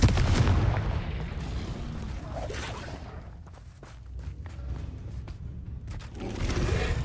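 A Confringo spell is cast in the Hogwarts video game, producing a rumbling blast followed by scattered crackling impacts and faint footstep-like clicks, moderately distant and without talk.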